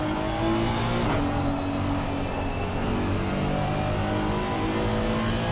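A GT3 race car engine in the racing game Assetto Corsa Competizione on the Zolder circuit drones loud and steady, holding a sustained high-revving tone with a slight shift partway through.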